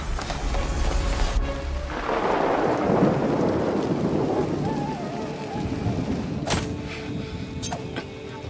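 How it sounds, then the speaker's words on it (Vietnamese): Heavy rain pours down in a dense, steady roar while a deep rumble of thunder rolls through and fades, followed by a couple of sharp cracks near the end. "Trận mưa này chắc sẽ không tạnh ngay đâu."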